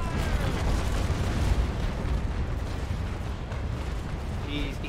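Naval Action cannons firing during a large naval battle, a dense sustained roar of overlapping heavy booms and rumble filling the whole stretch, loud and continuous with a faint whistle near the end.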